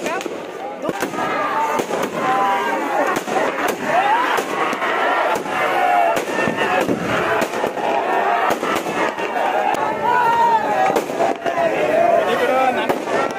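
Firecrackers and fireworks bursting at a midnight celebration in Samvidhan Chowk, Yavatmal, on 14 April 2023, a dense, continuous crackle of sharp pops and bangs with crowd noise and voices mixed throughout.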